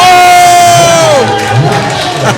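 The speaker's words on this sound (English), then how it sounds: "Look at the crowd go crazy, ladies and gentlemen." A big crowd at a pool final cheers and shouts loudly and continuously, with whoops rising over the roar, near and filling the space.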